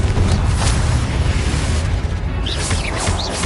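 Confringo spell blast in Hogwarts Legacy, a dense, loud booming explosion that rumbles continuously for a few seconds, with crackling debris and faint whooshing tones near the end.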